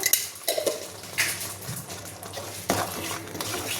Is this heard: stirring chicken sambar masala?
yes